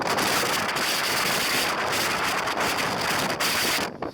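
Strong, roaring wind buffets the microphone in continuous gusts on a freezing mountain trail, McKittrick Ridge in the Guadalupe Mountains, loud and rushing, with no voices.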